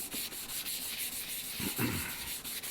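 A blade rubbed back and forth on an oiled sharpening stone in a woodworking shop, giving a steady, close scraping hiss with a couple of stronger strokes near the end.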